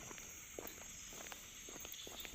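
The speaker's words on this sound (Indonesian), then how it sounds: "Jalan kaki kita, guys." Soft footsteps crunch along a village path during an afternoon walk in Muara Nyahing, faint and irregular over steady insect and ambient hiss.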